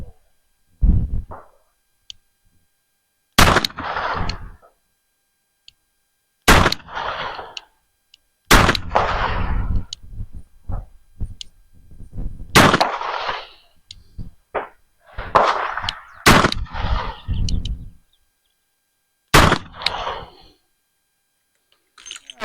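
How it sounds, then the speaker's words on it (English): A Smith & Wesson Model 64 revolver fires six sharp, loud shots at a 10-yard target, spaced a few seconds apart, with a voice speaking between some of them. "Okay, let's try a 6-shot group. We're about 10 yards out."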